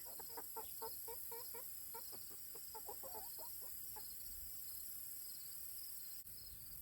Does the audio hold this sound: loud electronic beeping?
no